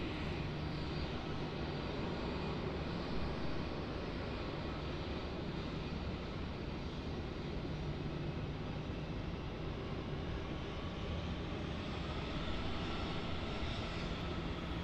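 A Boeing 717 in Silver Roo livery at Melbourne Airport produces a steady, broadband jet engine roar that holds constant and fairly distant throughout, with no voices.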